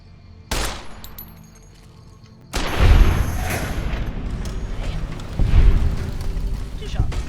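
Gunfire from the video game Fallout: New Vegas: a sharp single shot, then a heavy burst followed by sustained loud rumbling blasts and a second thump later, dense and close throughout.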